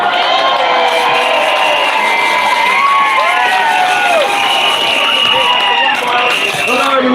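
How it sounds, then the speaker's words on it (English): Outdoor crowd at a London anti-ULEZ rally applauding and cheering loudly, a dense, steady wall of clapping with whoops and shouts rising through it. "a big round of applause for the brown driver guy"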